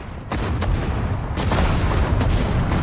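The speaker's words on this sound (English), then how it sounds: "That's the artillery." Heavy, rumbling artillery fire in the World War II strategy game Sudden Strike 4 at Tobruk, dense booming blasts layered over a continuous low roar, loud and close.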